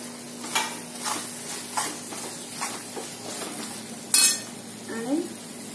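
Potato pieces tossed into hot frying masala for a dry fish gravy, stirred with a spoon scraping the pan in a few soft strokes over a low sizzle, ending with a sharper clink against the metal.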